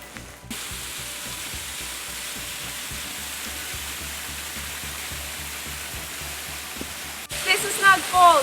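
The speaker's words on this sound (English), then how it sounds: "This is Snug Falls, isn't it gorgeous?" Snug Falls waterfall in Tasmania roars as a broad, constant wash of rushing water, steady and close for most of the stretch before a brief break where a voice starts talking over it.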